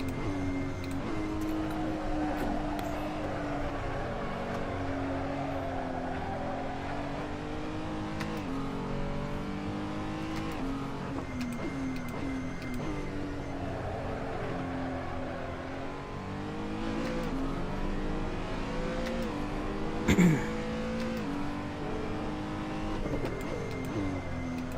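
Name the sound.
race car engine in video game Assetto Corsa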